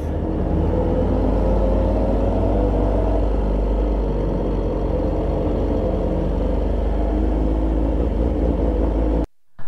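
A Yamaha R6 motorcycle engine revs hard and steady at close range, a loud, continuous roar that holds for several seconds and then cuts off abruptly.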